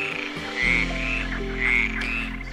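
A green frog croaks twice, loud and close, over a bouncy musical backing.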